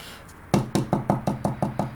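Eight steady, hollow knocks in even rhythm as loose debris is tapped out of a fairy house base, close and loud with nothing else underneath.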